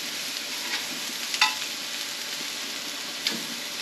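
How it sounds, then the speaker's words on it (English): Pompano fish sizzling on a hot flat iron grill outdoors, a steady close crackle and hiss with a few sharper pops, heard alone without talk. "But we got a nice sizzle going."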